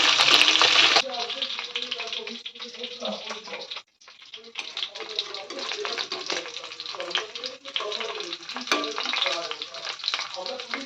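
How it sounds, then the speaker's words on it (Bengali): Snakehead fish pieces, cooked for a fish-and-radish curry, fry in hot oil with a loud, close, continuous sizzle and crackle, cut by a brief dropout near the middle, while a person talks over it. "সব মাছ ভাজা হয়ে গেছে এবার এটাই ছিল লাস্ট তো এগুলোকেও তুলে নেব এখন"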